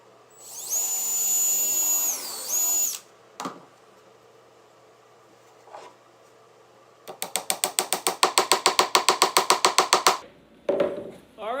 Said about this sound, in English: Use the drill again if you want.